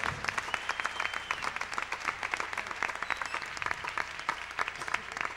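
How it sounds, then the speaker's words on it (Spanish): An audience applauds steadily at an orchestra concert in Bayamón, Puerto Rico, with dense, sustained clapping heard close and loud throughout, with no talk over it. "Fuerte el aplauso para ti, Eliezer."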